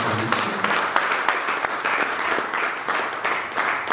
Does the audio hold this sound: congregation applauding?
yes